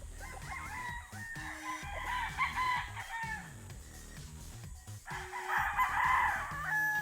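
Gamefowl roosters crow on a game farm, two clear crows a few seconds apart, with clucks from other fowl in the background and no talking.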